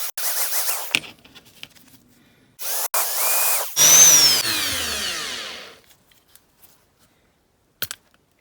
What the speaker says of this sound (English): I've reverted to my mains drill at the moment